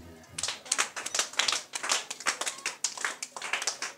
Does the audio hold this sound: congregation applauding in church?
yes